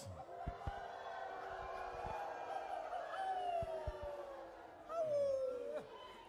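A crowd at a Confederated Tribes of Warm Springs gathering imitates coyote howls, with several voices rising and falling in overlapping wavering howls, joined by scattered sharp knocks and a louder howl near the end.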